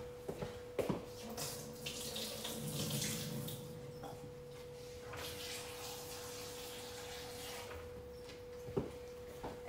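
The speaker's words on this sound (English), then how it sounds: "we're going to add the clean water to the cashew" Clean water runs from a tap and is poured onto cashews in a kitchen container, a steady splashing stream under light clatter with a few sharp knocks, close and fairly quiet.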